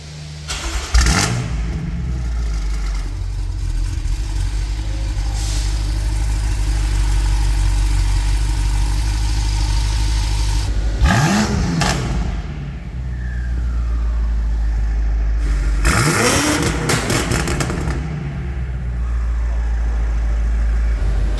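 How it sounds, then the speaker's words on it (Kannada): A tuned 800-horsepower sports car engine holds a loud, deep idle and blips into three sharp revs, each rising and falling back, heard up close without speech. "ಸಿಕ್ಕಾಪಟ್ಟೆ ಮ್ಯಾಡ್ ಗಾಡಿ ಗಾಡಿ ಗುರು ಇದು ಕೇಳಿಸ್ಕೊಳೋಣ ಬನ್ನಿ"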